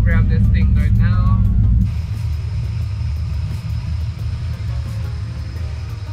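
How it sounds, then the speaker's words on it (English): A classic car in a restoration shop idles roughly with a lumpy, loping rumble from an aggressive cam, close and steady, with a person talking over the first couple of seconds. "The idle sounds like that because the cam is very aggressive."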